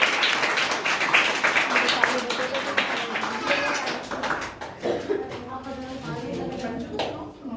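Students and audience clap together at a school exam results announcement, a dense, steady burst of applause that thins out, with a voice talking over it.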